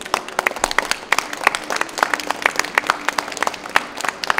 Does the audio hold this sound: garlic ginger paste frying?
no